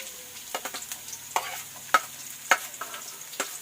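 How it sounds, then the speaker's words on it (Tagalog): Ginger and garlic frying in a pan, with faint sizzling beneath scattered clicks and scrapes of stirring, several sharper knocks standing out against a quiet background. "Hayaan mo natin maluto ang luya. Ilagay na natin mga igan ang bawang."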